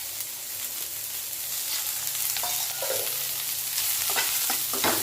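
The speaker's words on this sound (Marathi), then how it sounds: "आता एक मोठा कांदा कट करून घेतला तो पण भाजून घ्यायचा आहे थोडंसं तेल टाकायचं" A large chopped onion fries in a little oil in a kadai, giving a steady, close sizzle with occasional stirring scrapes and no talk.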